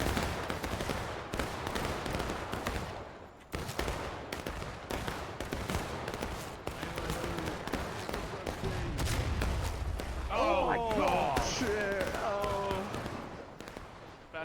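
Artillery and massed musket fire in a historical Civil War battle game: sharp, irregular cracks and booms, some close and some distant, spread across the whole stretch, with a voice speaking over the later part.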